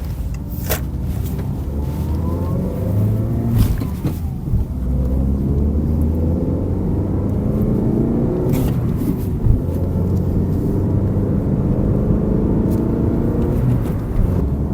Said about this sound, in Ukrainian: давайте перевіримо, як цей автомобіль розганяється вже.